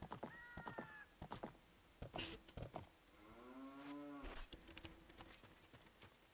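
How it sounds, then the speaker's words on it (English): A cow in The Legend of Zelda: Ocarina of Time moos twice, long, drawn-out lowing calls with steady harmonic tones, set against soft game ambience and scattered light clicks. "There's a cow down there."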